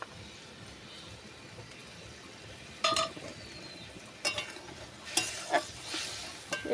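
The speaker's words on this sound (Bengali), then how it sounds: "এবার ভেজে রাখা ডিমটা দিয়ে দেবো।" Fried eggs go into a simmering curry gravy for an egg kosha, with a steady low sizzle throughout and several sharp spoon scrapes and stirring clatters against the pan, close and fairly loud, with no talking.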